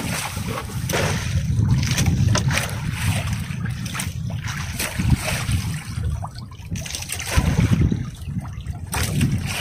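Northeast monsoon wind blows at sea around a small traditional Philippine fishing boat, a steady, loud buffeting rush with gusty surges and faint water sloshing throughout.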